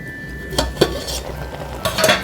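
Pannai keerai greens turned over in a cooking pan, with a few distinct metallic scrapes and clinks of a spatula against the pan over a low background hiss, close by.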